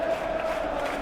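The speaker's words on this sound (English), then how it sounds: "you can hear how the crowd are reacting to this too" A stadium crowd in a football video game reacts with a steady, dense roar of many voices that holds at an even level for about a second, with no one speaking over it.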